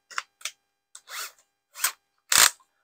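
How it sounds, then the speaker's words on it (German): A fast-running cordless drill-driver in drilling mode bores a hole in short bursts: about six quick whirring spurts of rising loudness, the last one the longest and strongest, close by with no talk. "Dann nehme ich meinen Akkuschrauber, der hat auch so eine Bohrfunktion, der läuft relativ schnell."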